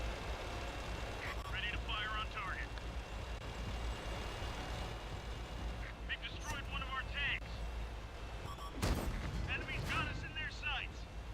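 A WZ-111 tank's main gun fires once in a tank video game, a sharp loud blast near the end over steady engine rumble and intermittent chirping game effects.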